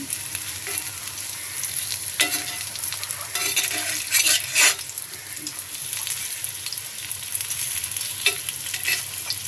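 Water lily stems frying and sizzling in oil on an iron tawa after being turned over, a steady close crackle with brief louder bursts of stirring.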